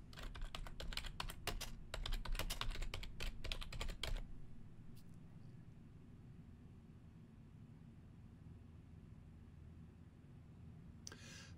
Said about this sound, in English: I will then enter a title for this card.